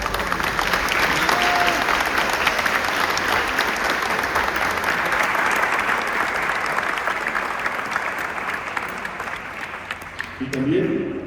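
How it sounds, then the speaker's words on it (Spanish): Sustained applause from a crowd, steady and dense throughout, tapering slightly near the end with a brief voice at the close. "pedimos un fuerte aplauso para Minda Cleven"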